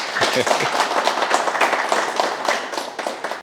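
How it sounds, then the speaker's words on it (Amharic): Audience applause at a corporate closing ceremony marking completion of an ERP implementation, a dense, steady patter of many clapping hands filling the room, with a voice briefly heard at the start. "እስቲ አጨብጭቡ"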